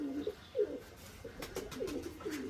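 A pigeon coos close by, several soft throaty rolling calls repeated in a loose rhythm across a couple of seconds, fairly quiet, with no one speaking.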